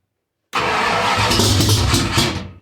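A cammed Ford 351 Windsor V8 fires on its first start: after a brief silence it bursts into a loud, rough, lopey run close by, rumbling for about two seconds before dropping off.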